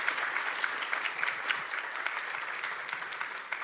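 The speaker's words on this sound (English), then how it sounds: "can we give a round of applause for Dr. Deborah Kanter?" Sustained audience applause after an academic lecture, dense steady clapping from a crowd at close to mid distance with no talking over it.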